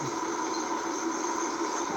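A long, heavy freight train pulled by two engines in the Trainz game gives off a steady, loud rumble and hiss. The broad, continuous noise holds unchanged for two seconds. No one speaks.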